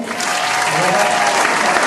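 Dense, steady applause from a crowd at a stage event, loud and continuous throughout.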